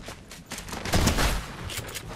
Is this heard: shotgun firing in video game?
yes